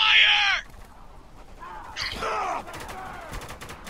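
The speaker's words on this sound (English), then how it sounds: "I need some cover here! God damn it! Under heavy fire!" Heavy gunfire during a firefight in the video game Spec Ops: The Line, a loud burst at the start followed by scattered shots and chaotic combat noise while voices shout over it.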